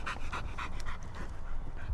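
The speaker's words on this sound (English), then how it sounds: "He's a big, strong Staffordshire Bull Terrier." A big, strong Staffordshire Bull Terrier pants close by in quick regular breaths, about eight in two seconds, with no talking.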